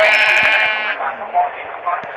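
Sheep in the Minecraft video game give a short, loud bleat, followed by softer in-game noises over about two seconds, with no talking.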